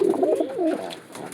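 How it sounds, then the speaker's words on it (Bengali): An owl breed male pigeon coos close by in a series of soft, rolling, throaty phrases that carry on through the whole moment with no talk. "আর এটা হচ্ছে আউল মেল কবুতরটা"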